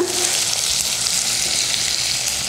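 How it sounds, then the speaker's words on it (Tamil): Tomato, onion and drumstick sautéing in a pan for a Tamil onion kulambu, giving an even, close, continuous sizzle with no voices. "தக்காளி வெங்காயம் அதுக்கப்புறம் முருங்கைக்காய் எல்லாமே நல்லா வதங்கிடுச்சு"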